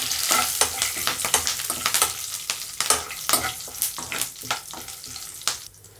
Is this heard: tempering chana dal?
yes